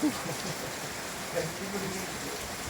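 Heavy rain during Typhoon Carina, a steady dense hiss of falling water that fills the whole few seconds, with a voice talking faintly under it.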